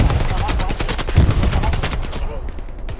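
Dense gunfire in the World War II shooter Hell Let Loose, rapid overlapping automatic bursts and heavy low thuds pounding nearly continuously, loud and close, thinning slightly at the end, with a voice faintly under it.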